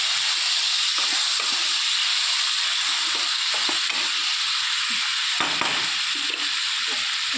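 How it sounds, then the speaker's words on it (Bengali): Rui fish curry sizzling hard in a pan just after a splash of water goes in, a dense steady hiss and crackle filling the whole stretch with no talking. "সামান্য একটু জল দিয়ে দিলাম।"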